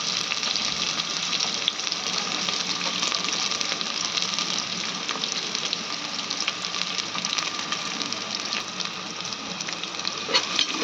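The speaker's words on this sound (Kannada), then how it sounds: "ಜೀರಿಗೆ ಸಾಸಿವೆ ಎಲ್ಲ ಚಂದ ಚಟ್ಪಟ ಅಲತ್ತವ್ರಿ ಈಗ ಉಳ್ಳಾಗಡ್ಡಿ ಏನು ಕಟ್ ಮಾಡಿಕೊಂಡಿನಲ್ರಿ ಹಾಕ್ತಿದ್ದೀನಿ" Cumin, mustard seeds and chopped onion fry in oil in a pan for vegetable pulao, making a loud, continuous close sizzle and crackle with no talk over it.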